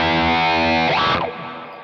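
Electric guitar run through a Quad Cortex envelope filter on default settings, a sustained distorted chord whose tone sweeps up and back down in a wah-like vowel swell before fading, loud and alone.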